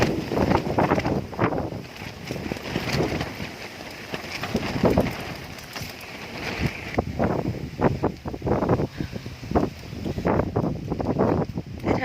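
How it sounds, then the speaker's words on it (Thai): Strong wind gusting across a dam at sunrise on a cold morning, a loud broadband rush buffeting the microphone in waves throughout, with no other clear sounds. "ลมแรงมากได้ยินเสียงลมไหมคะ"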